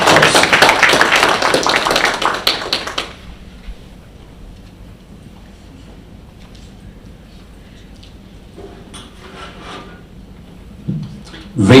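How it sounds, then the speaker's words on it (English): Round of applause from a symposium audience, a dense burst of clapping for about three seconds that quickly fades into quiet room noise. "Let's give him a round of applause."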